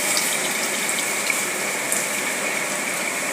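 Tamarind water pours into boiling sugar syrup for sweet tamarind chutney, a steady loud rushing gush that runs continuously with no voices.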